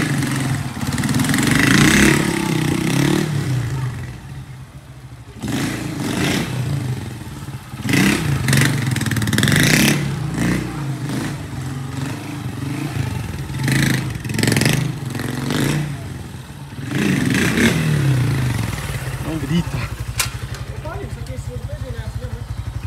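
A Honda XRE motorcycle revs hard through repeated throttle bursts while doing a wheelie, the engine rising and falling loud and close between brief idle dips, with people talking and shouting over it.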